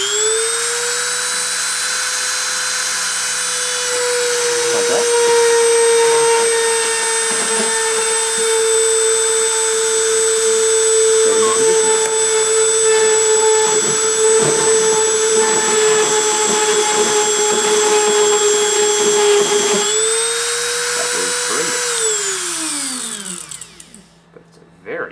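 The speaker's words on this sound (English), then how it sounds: "I'm going to start the spindle and start the deposition." A spindle motor whirs during a deposition run with a steady high-pitched whine, dipping briefly in pitch partway through, then spinning down and stopping near the end.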